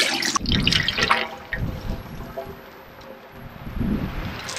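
Water poured down a drain in a milk room, a gushing, gurgling rush that swells and fades over a few seconds, close by with no one talking.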